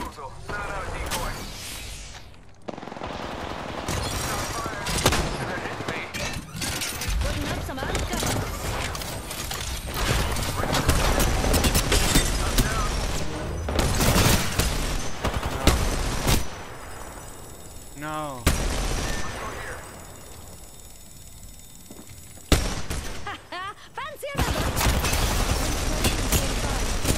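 Gunfire in the battle-royale video game Apex Legends, dense bursts of shots and impacts running almost continuously at high level, with brief lulls, while a player talks over the fighting.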